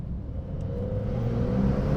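A 2021 Porsche 911 992 Carrera GTS engine rises in a short, building rev inside a tunnel, a low, fairly faint rumble that grows steadily over two seconds with no talk.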